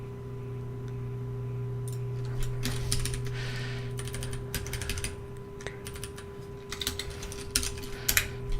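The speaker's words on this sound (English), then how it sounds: "My typing is not very good today." Someone types on a computer keyboard during Unity game development work. The clicks come in irregular bursts, close and fairly quiet, over a steady low hum, with no talk.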